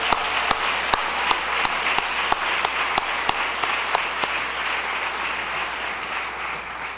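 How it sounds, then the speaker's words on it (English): Audience applause at the 2012 Golden Herald Awards ceremony, a dense, sustained roar of many hands clapping with a few sharp, close claps standing out early, then gradually thinning and softening. "Let's give them all a round of applause."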